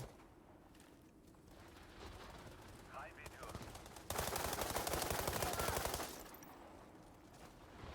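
Video game gunfire, a dense rattling stretch of rapid automatic shots in the middle, loud against the quieter surroundings, with faint talk and a few scattered clicks before and after.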